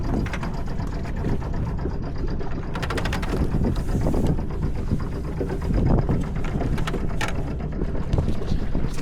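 Wind buffets a microphone aboard a sailboat under sail, a loud continuous rush with gusts and flapping, mixed with water noise and a faint mechanical whir, no voices.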